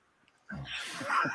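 A single sneeze bursts out abruptly after a moment of near silence, close and fairly loud, trailing into a breathy exhale.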